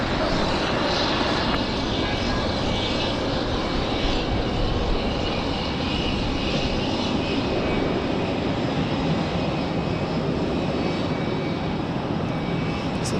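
Airliner landing on runway 5 right at Raleigh-Durham International Airport, a loud, continuous, broad engine roar and rush that holds steady throughout without talk.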